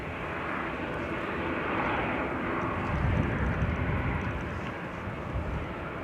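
Propeller aircraft engine at Manchester Airport, a steady broadband grumbling drone that swells slightly and holds at a moderate distance, with no talk over it.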